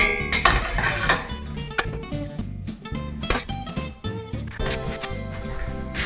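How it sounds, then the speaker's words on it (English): Metal utensils scrape and knock against a pan as browned beef for goulash is lifted out, with a steady run of clatters and taps close by over soft background music. "take that out of the pan, but leaving all them lovely juices"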